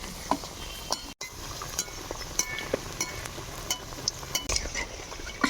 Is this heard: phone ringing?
no